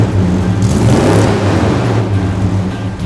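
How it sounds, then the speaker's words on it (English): A 1972 Ford F250 Highboy engine idles smoothly with a steady, low grumble, close and loud, holding an even rumble throughout with no talking over it. "Just smooth at idle. Like I said, fires up first key. Nice low grumble, you know it's there."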